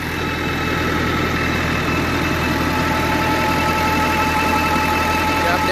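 A tractor engine drives a PTO generator with a steady loud idling drone and a constant mechanical hum, unchanging across the whole stretch, with a voice faintly present over it.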